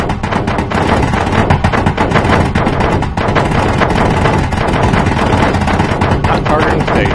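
Turret guns firing in Space Engineers, sustained loud automatic gunfire with rapid rhythmic shots and a brief dip near the middle, close and continuous with no talking.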